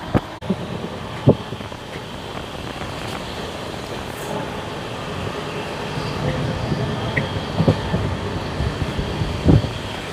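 Passenger train between Tiruppur and Palakkad running near 110 km/h, heard from inside: a steady broadband rumble with rhythmic wheel clatter and occasional rail thumps, with people talking faintly.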